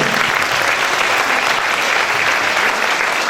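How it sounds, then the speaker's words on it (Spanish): An audience at a festive singing event in a hall gives steady, loud applause, a dense unbroken patter of many hands clapping for several seconds. "aplauso para ela, por favor"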